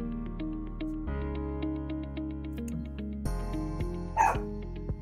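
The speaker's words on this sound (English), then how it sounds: "you can hear my dog barking" A dog barks indoors in short spaced yips and woofs beneath a sustained tonal music bed, with one louder bark near the end.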